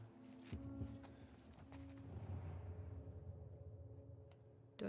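Quiet hoof clip-clops of a horse in The Last of Us video game, several soft footfalls at a slow walking pace amid low ambient game noise, with no talking.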